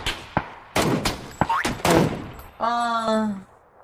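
Video game gunfire, a few sharp separate shots and thuds in an irregular sequence, close and loud, followed by a tonal electronic buzz.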